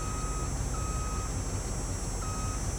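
In a video game, a truck drives away, its reversing alarm sounding in steady evenly spaced beeps over a continuous low engine rumble, with no talking.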